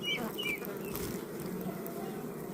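A strong, disease-affected honeybee colony filling about 25 frames hums inside its hive with a steady, low, close buzz and a few higher passing bee tones.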